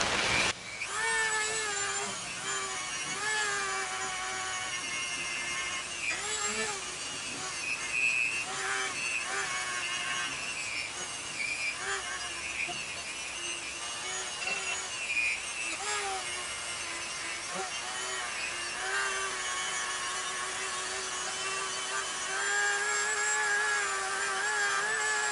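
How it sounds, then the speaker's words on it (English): A small wire wheel on a rotary tool whines and grinds in bursts against the metal parts of a 100-year-old Stanley No. 7 hand plane during restoration, a continuous high buzzing with brief pitch dips, close and moderately loud. "So I'm going to take this small little wire wheel to the parts that the larger one won't be able to get to."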